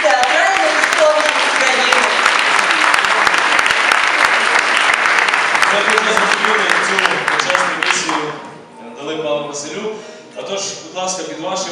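A theatre audience at the Ternopil theatre festival fills the hall with loud, sustained applause for first-year arts students, which fades out before a voice takes over.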